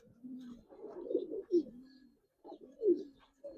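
Giribaz pigeons at a farm give low, throaty cooing calls, close by, in two rolling bursts separated by a short pause, with faint chirps over the top.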